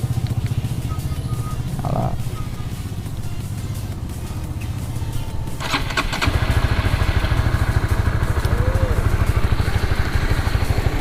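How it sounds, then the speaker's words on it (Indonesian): A Honda CB150R motorcycle engine is started partway through, then settles into a loud, steady, even idle close to the microphone. "Ini starter engine nih."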